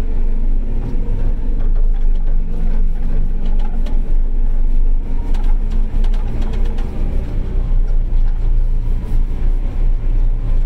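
A JCB 535-95 telehandler drives across a farm to fetch straw, its diesel engine a steady, loud, close rumble that holds on without a break the whole way.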